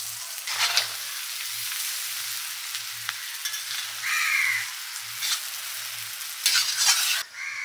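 Boiled chow mein noodles with fried potatoes tossed and stirred in a hot pan for egg chowmein, a steady close sizzle broken by repeated scraping stir strokes at an irregular rhythm, with no talking.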